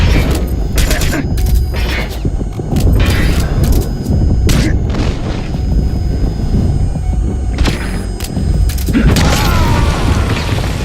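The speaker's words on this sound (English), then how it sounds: "what just blew me up? Was that my own grenade?" Grenade blasts and combat in Metal Gear Solid V: The Phantom Pain, with loud repeated booms and crashes scattered across a busy, mechanical battlefield din, and a player's voice at times underneath.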